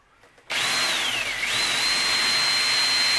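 A hole saw bores through two stacked layers of ammo box sheet metal, starting abruptly with a loud, steady grinding whine that dips in pitch briefly under load before settling into a constant high ring.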